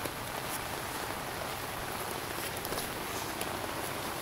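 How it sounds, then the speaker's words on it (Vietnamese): Heavy rain pouring steadily at a fishing spot, a dense continuous hiss of drops on surfaces with scattered louder patters, no talking. "Ủa, mưa to quá."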